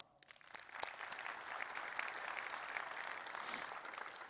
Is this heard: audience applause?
yes